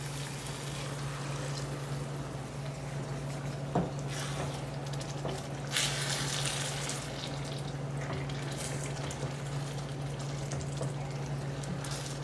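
Beef broth, one and a half cups, pours into a pan of cheeseburger rice with seasoning and tomatoes, a soft continuous liquid stream over a steady low background hum, with no speech.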